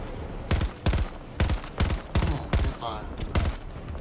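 Sharp, evenly spaced single shots from an AC 42 rifle in Battlefield 2042 crack close and loud, about eight rounds over four seconds, with a brief voice between them.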